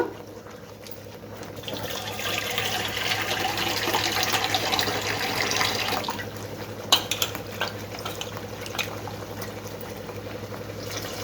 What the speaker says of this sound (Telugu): నాకు ఇంకొంచెం నీళ్ళు వేసుకుంటాను నేను